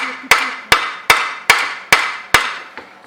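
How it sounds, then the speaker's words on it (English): A rubber mallet strikes a lawnmower part in six sharp, evenly spaced taps, each with a brief ringing decay, then a softer seventh tap at the end. The taps are close and loud, with no talk. "Rubber mallet."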